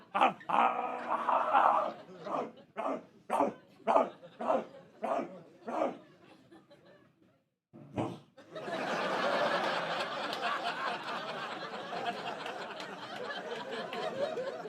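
A man on a comedy club stage imitates a dog barking, a string of about eight sharp, evenly spaced vocal barks followed by a brief pause and then a longer, sustained rough growling noise.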